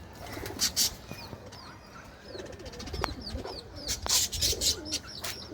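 Pet pigeons cooing close by, soft repeated coos mixed with brief chirps and a few light wing flutters over quiet outdoor background.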